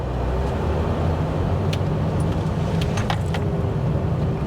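Interior of a 2023 Toyota Camry TRD rolling slowly through a turn with the steering at full left lock: steady low road and engine rumble throughout, with a few faint light ticks and clicks and no talk.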